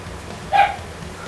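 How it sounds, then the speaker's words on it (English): A single short dog bark in the room, heard once at a moderate level over a quiet background while a racing video game plays. "What about that dog in here?"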